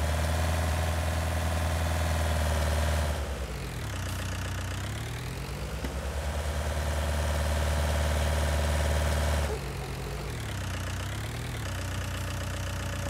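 Tractor engine idling in Farming Simulator 19, a steady loud mechanical drone that dips in pitch around three and nine and a half seconds, with no talking over it.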